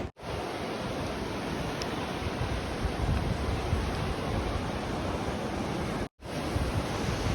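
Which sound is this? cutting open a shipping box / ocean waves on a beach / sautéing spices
ocean waves on a beach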